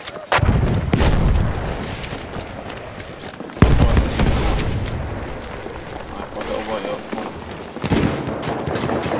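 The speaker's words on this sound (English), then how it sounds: "There's a grenade for you bastards!" Grenade blast and gunfire in the video game Battlefield 1, Conquest mode on the Argonne Forest map: heavy booms and rattling shots, with a sharp explosion near the middle, under a voice.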